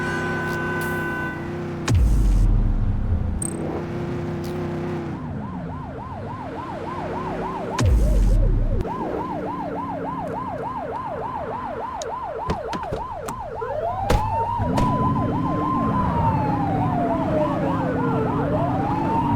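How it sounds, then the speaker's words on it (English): A police car siren in the video game The Precinct wails in rising and falling cycles, loud and close, with a couple of heavy thumps and engine noise underneath before shifting to a long slow sweeping tone. "Turn that siren off."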